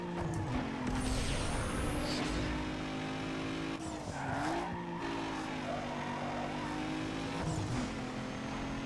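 Race cars in Need for Speed Underground 2 roar continuously near and loud, engines droning with shifting pitch and occasional tire squeal through a race.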